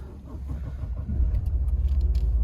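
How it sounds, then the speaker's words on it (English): A 2018 Toyota Prado GXL engine cranks and fires, settling into a loud, steady low idle rumble close by with no talk. "Alright, I'll quickly start up the car."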